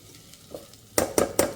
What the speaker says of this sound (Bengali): এটাকে আমি আলগা আলগা ভেজে নিচ্ছি।